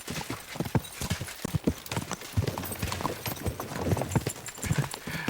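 Horse hooves clip-clopping in the medieval video game Kingdom Come Deliverance 2, a steady close rhythm of hoof strikes over a busy background, without speech.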